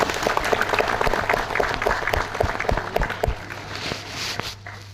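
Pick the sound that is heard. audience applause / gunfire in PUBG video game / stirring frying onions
audience applause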